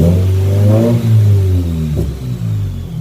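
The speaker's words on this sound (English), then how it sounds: "You're just going to want to rev it and kill the car." A 2015-or-newer Subaru WRX engine, in a car up on a lift for clutch work, revs up close and loud from idle, then drops back and shuts off, with no talking.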